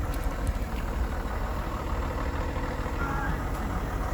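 A Mercedes 300CE running after sitting for nearly two years: a steady, rumbling idle that holds evenly throughout, fairly close, with possible talk in the background.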